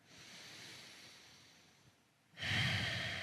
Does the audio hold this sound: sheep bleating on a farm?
no